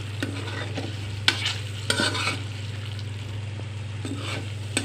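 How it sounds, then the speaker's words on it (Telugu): Chicken semi gravy with green chillies stirred in a pan: steady low hum under soft scraping strokes, with a few sharper knocks of the spoon against the pan. "ఇది ఇంకా బాగా దగ్గరగా వచ్చే వరకు కలపాలి."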